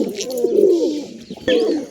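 A pigeon wearing a leg ring coos close by, giving two loud, throaty rolling coos separated by a brief pause.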